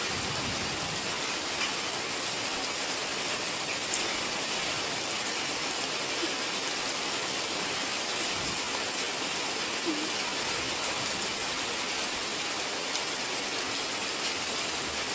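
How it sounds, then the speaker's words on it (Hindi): Steady, dense rainfall hisses evenly throughout, a constant wash of drops with no voices. "तो यहाँ सुबह के 6 बजे से लगातार बारिश हुई।"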